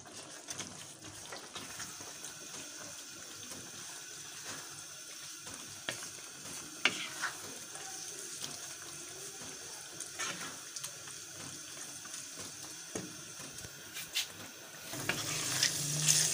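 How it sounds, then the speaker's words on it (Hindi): Boiled black-eyed peas (lobia) stirred and fried in a pan give a steady, fairly quiet sizzle with occasional scraping clicks of the spoon, growing a bit louder at the end. "इसको हम अच्छे से भून रहे हैं।"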